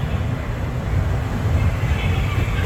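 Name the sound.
Walt Disney World Railroad train, Magic Kingdom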